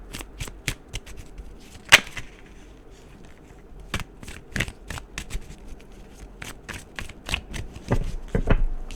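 Tarot cards shuffled by hand, a rapid series of crisp riffling snaps and flicks with one sharper slap near the start, close and fairly loud with no talk.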